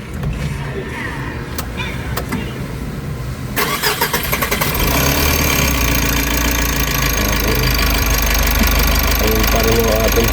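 A car engine with a newly fitted fuel filter and an EGR fault cranks with a few clicks, catches around the midpoint and settles into a loud, steady, slightly rough idle close by.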